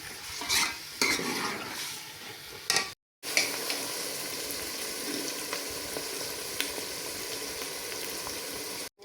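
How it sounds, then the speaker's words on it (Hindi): Onions fry and brown on high heat for chicken biryani, a dense steady sizzle with spoon scrapes and clinks against the pot, briefly cut off by a pause before the frying resumes loudly and continuously. "प्याज़ों को तेज़ आंच से ब्राउन करते हैं।"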